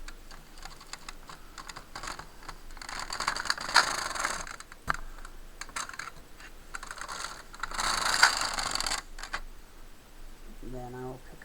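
A domestic knitting machine carriage sweeps across two rows, a long rattling, clicking mechanical run with surges of louder clatter near the end of each pass, heard close.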